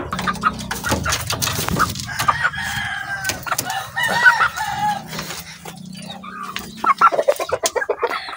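Chickens, including a gray hen, cluck close by in an irregular run of calls that grows busier and louder toward the end, with no talking.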